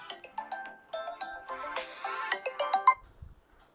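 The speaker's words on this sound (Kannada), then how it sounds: "ನಮ್ಮವ ಫೋನ್ ಮಾಡಿದ್ದೇಳ್ರಿ ಅದಕ್ಕೆ ಮಾತಾಡಿದೆ" A mobile phone ringtone for an incoming call plays as a melodic electronic tune of quick chiming notes, fairly close and clear, fading out near the end.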